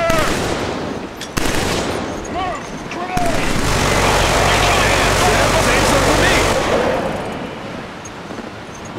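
Rapid automatic gunfire and explosions rattle through a firefight in the video game Killzone 3. The shooting is loud and near, with sustained bursts, and soldiers' voices call out over the combat.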